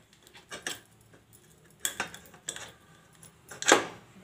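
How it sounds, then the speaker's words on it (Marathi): A knife cuts the stem off a peeled roasted eggplant in a home kitchen, giving a few separate scraping, clicking taps spaced over several seconds, the last one loudest, with no talking. "आता हे देठ मी असे कापून घेणार आहे"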